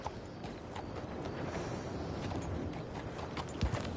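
Horse hooves clip-clop steadily at a walking pace in Red Dead Redemption 2, over a constant, hissy ambient wash, moderately close and fairly quiet.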